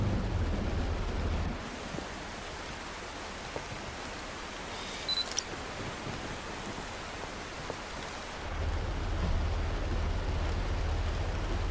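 Storm rain falls in the tornado-chasing video game OUTBRK as a steady hiss of heavy downpour with a low rumbling undertone, easing in the middle before swelling again, with a few brief clicks.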